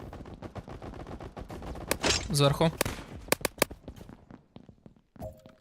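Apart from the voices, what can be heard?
gunfire in a video game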